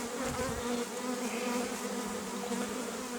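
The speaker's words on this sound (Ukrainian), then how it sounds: "Бджоли до чорта." A steady, dense buzzing of many honey bees fills the air, close and continuous, with a low droning hum throughout.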